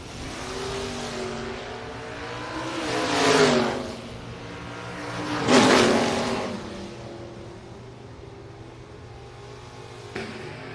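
A Camaro and a Corvette lined up at a drag strip roar off the line, a steady engine drone swelling into two loud revving surges before easing back, heard from some distance.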